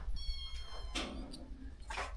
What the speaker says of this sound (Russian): Котики.